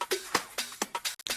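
House-music drum loop built on a drum machine, playing quietly as a short run of crisp, dry percussive hits in an uneven syncopated pattern.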